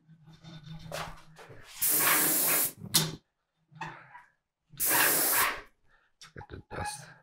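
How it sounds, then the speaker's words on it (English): Paint sprayer laying seal coat onto kitchen cabinets in two steady hissing bursts about a second long each, separated by quieter handling noises and short pauses. "I'm going to be spraying it one way and then cross-hatching it the other way."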